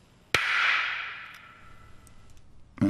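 A V3 cannon test-fired: one sudden sharp crack hits loudly and then trails off into a long, fading hissing rumble, with another abrupt burst at the very end.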